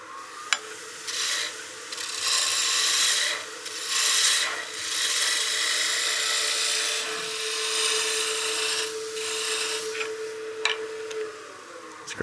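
Wood lathe turning a baseball bat blank, a steady broadband scraping rasp of the tool cutting spinning wood that swells and eases in passes, with brief clicks and no talking, continuous and close for about twelve seconds.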